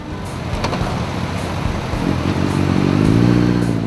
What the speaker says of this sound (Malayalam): ആൾട്ടർനേറ്റ് ചെയ്ത ഫാഷൻ ബൈക്കുകൾ ചീറിപ്പായിച്ച് മഞ്ഞുമലകൾ ലക്ഷ്യമാക്കി ആ യുവാക്കൾ പാഞ്ഞുപോയി